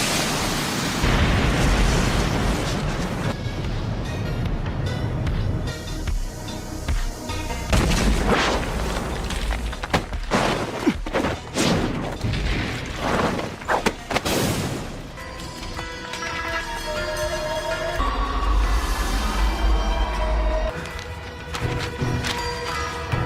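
Fire Style jutsu explosions from an anime fight, made of booming blasts and roaring, crackling bursts. They surge and crash one after another over about twenty seconds, loud and dense, with rumbling low-end impacts and no speech.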